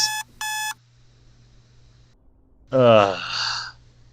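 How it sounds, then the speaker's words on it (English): A harmonic electronic alarm clock in a Doki Doki Literature Club mod game beeps in two quick bursts near the start, followed later by a louder, rougher blaring stretch. "As my alarm blares, I groggily open my eyes."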